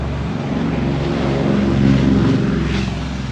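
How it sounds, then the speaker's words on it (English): An airplane passes loudly outside at an airport, producing a continuous, heavy engine roar with a droning low hum that swells slightly in the middle, heard alone. "Oh, look at this plane."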